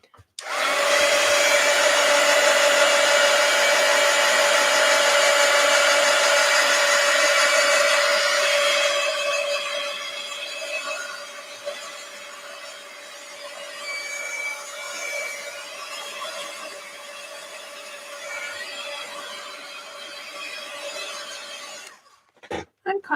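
A hair dryer blows steadily on an art journal cover, loud and constant with a whining motor tone for about nine seconds, then continues at a softer, lower level until it switches off near the end.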